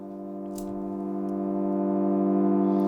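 A low, filtered synth drone pad holds a deep, steady tone that grows gradually louder, with a brief bright click near the start.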